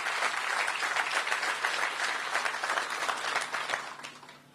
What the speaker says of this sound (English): Please give them a round of applause for their leadership as well.